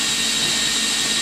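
Forged BMW S52 inline-six spun over on the starter with plugs out to build oil pressure: a steady, loud, close whirring drone, unbroken for the whole moment.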